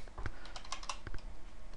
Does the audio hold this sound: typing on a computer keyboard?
yes